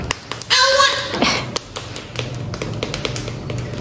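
Hands clap in a rapid series of sharp, close taps that keep going in a fast, uneven rhythm. A voice can be heard briefly near the start.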